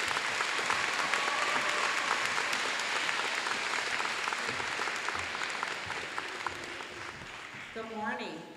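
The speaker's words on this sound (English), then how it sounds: "So I'd like you to give a warm round of applause to Interim Superintendent," Warm audience applause at a school event for the interim superintendent, steady crowd clapping that fades toward the end as a voice begins speaking.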